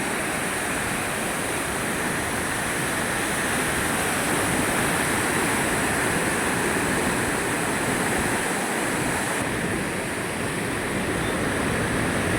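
The Godavari river in flood roars past, a dense, unbroken rush of powerful water, loud and close, with no pause from start to end.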